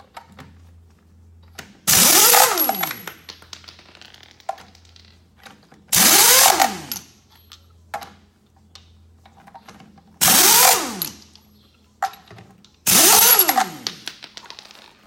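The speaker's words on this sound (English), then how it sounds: "I can start removing the lugs really quickly with this air ratchet." An air ratchet spins the lug nuts off a lifted car's wheels in four loud, close bursts of about a second each, its whine rising and falling, separated by quiet gaps with faint clicks.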